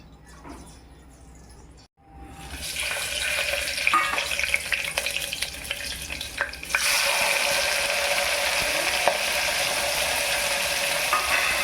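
Oil hitting a heated pressure cooker for a mutton curry starts a loud, steady, close sizzle after a short quiet stretch, and it flares a little stronger partway through and keeps crackling to the end.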